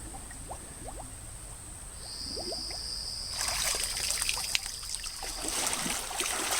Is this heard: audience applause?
no